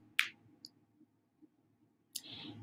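Two short mouse clicks while saving an online rent autopay setup, one near the start and another about two seconds later, each a crisp faint tick over quiet room hum.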